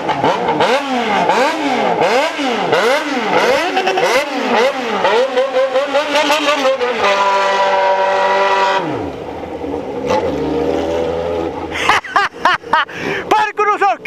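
A Yamaha XJ6 motorcycle with a straight exhaust pipe revs repeatedly up close, its rising and falling engine pitch cycling several times before it settles and revs again. A voice talks and laughs over the engine noise.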